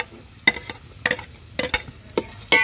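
Finely chopped onion cooks in oil with ginger and garlic for a spicy village-style chicken curry on a wood-fired stove, with a soft background sizzle broken by about six sharp, evenly spaced spatula scrapes and knocks against the pan.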